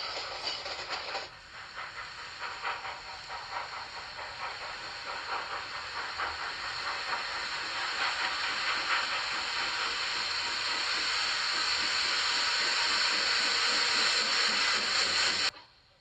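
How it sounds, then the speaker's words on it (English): A train passes in a Holocaust-era movie scene, a long steady rushing hiss with rhythmic rail clatter that slowly builds louder, then cuts off sharply near the end. "Follow that train the whole way there."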